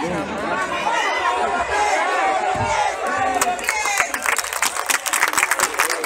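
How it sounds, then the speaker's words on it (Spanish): A stadium crowd at a Liga 1 football match between Cantolao and Melgar murmurs and then breaks into scattered, building applause with sharp claps. Commentators talk over the crowd. "Qué aplaudido, ¿eh?"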